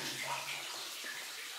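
Running water splashes and hisses steadily at the back of a cleaned-out cavity inside a gold mine in the Sierras, a faint, continuous wash with no talk over it.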